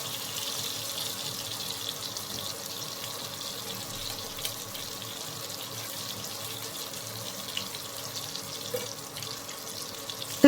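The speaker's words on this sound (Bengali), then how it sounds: "তারপর এপিট ওপিট করে একটু লাল লাল করে ভাজবেন" Chicken jalebi fries in hot oil, giving a continuous, even sizzle and hiss that holds steady throughout at close range with no voices over it.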